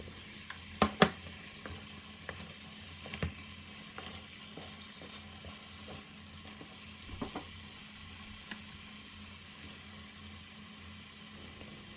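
Eggs fry in a hot pan for Indonesian balado eggs, a faint steady sizzle broken by a few sharp clinks and taps of utensils against the pan, mostly early on.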